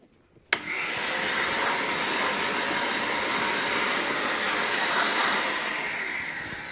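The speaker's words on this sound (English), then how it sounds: "we're going to give this a good vacuum. Make sure we get rid of all this fluff that's built around the machine everywhere." A vacuum cleaner starts abruptly and roars steadily close by as it sucks built-up fluff from around a Bosch tumble dryer, with a brief clunk partway through and a slight fade at the end.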